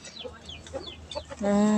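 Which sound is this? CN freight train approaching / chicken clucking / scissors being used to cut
chicken clucking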